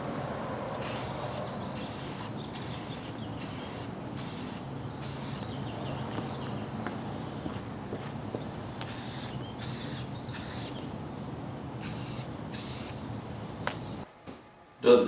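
A spray gun lays a second coat of paint on a part for a 1978 Suzuki GS550 cafe racer in a home garage, a steady close hiss running throughout with regular short pulses, before it cuts off near the end.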